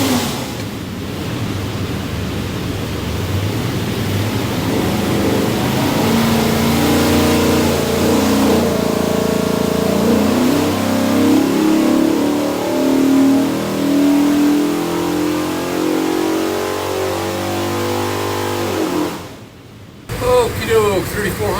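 Ford 408 Windsor V8 with a custom hydraulic roller cam, built for a '67 Ford Mustang, revving hard on an engine dyno. Its loud, rising roar climbs steadily for about twenty seconds, then cuts off abruptly.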